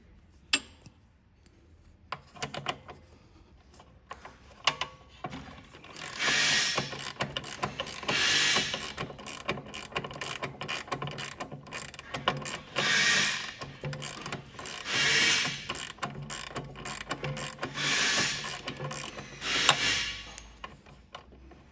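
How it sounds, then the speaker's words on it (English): Two wrenches working a bolt loose, repeated ratcheting clicks and metallic clatter in bursts, close and moderately loud, with brief handling noises between strokes. "Now you want to take your 2 wrenches and loosen this bolt."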